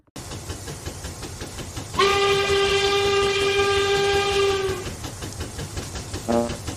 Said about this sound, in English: Wait, whose whistle was that?